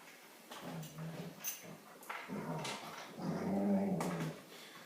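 A rescue dog growls and grumbles in low, rumbling bursts while rolling around on a rug indoors, with a few whimpering yips mixed in and the growls swelling louder toward the end.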